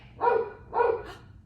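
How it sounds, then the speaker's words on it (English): A dog gives two short, fairly close barks about half a second apart, heard alone against a faint background hum. "That's a dog."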